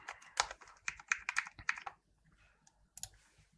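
C# code is typed on a computer keyboard at close range: a rapid burst of clicky keystrokes, a brief pause, then a couple more taps, with no talk.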